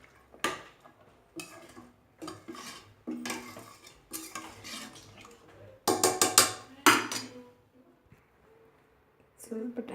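Pot-side stirring and mixing of ingredients, avarekalu (field beans) being cooked for Ithakina bele with chicken: repeated clinks and scrapes of a utensil against the vessel in short bursts, close and fairly loud, with brief pauses between strokes.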